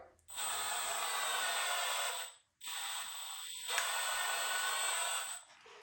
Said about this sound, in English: I'm going to take a 3/8 drill bit